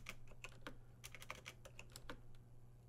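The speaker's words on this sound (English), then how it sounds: "I actually don't know if you guys can even hear the typing here." Rapid, irregular keystrokes on a computer keyboard, close and fairly quiet, with bursts of clicks over a steady low electrical hum.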